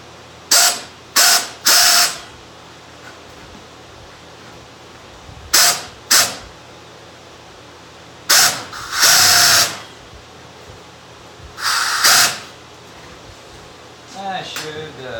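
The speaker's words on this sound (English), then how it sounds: "Take the metal shears." Hand metal shears cutting sheet metal for a central air filter housing adapter plate, in repeated bursts of short, loud, rasping snips with pauses between them, close by.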